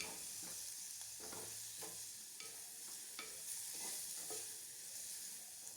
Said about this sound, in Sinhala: දාලා මේ විදිහට තෙල් එකේ හොඳට කලවම් කරලා බැද ගන්න ඕනේ.